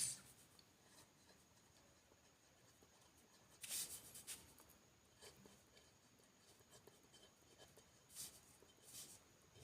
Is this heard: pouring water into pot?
no